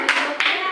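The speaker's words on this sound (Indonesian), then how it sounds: "Tepuk tangan" A fourth-grade class claps hands together in a short, bright burst of sharp slaps, close and fairly loud, breaking off and briefly resuming within a second.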